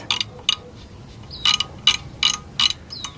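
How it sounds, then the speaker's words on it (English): A hand ratchet clicks during a brake inspection on a VW Golf, sounding as several short, sharp bursts of ratcheting clicks separated by brief pauses, close and clear against a quiet background. "So let's use this ratchet."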